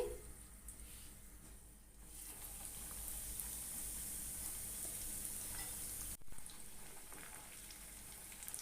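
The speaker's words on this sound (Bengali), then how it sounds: "তেল ভালো করে গরম হয়ে গেছে এবার আমি কড়াইয়ের মধ্যে ছেড়ে দিচ্ছি" Breaded eggs for egg devil go into hot oil in a wok and fry with a steady, even sizzling hiss that briefly dips partway through before carrying on.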